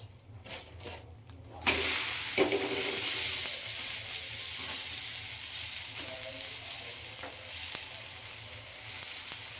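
Akki roti, a rice-flour flatbread, sizzles on a hot pan in a home kitchen, a steady loud frying hiss that swells as the dough goes on and holds without talk.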